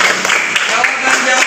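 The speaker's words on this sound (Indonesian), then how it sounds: "Tepuk tangan buat kita semua." Applause in a classroom during a teacher's performance-test lesson: a steady wash of clapping from a group of students, fairly close, lasting the whole moment with a few sharper hand strikes poking through.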